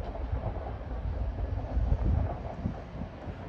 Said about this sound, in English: There's a Transpennine service heading for Redcar Central.